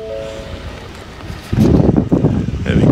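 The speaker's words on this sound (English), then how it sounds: "Bit windy, bit blowy, but what do you expect?" Gusty wind buffets the microphone at a coastal campsite in Devon in September, a low steady rush that suddenly surges into loud rumbling blasts halfway through.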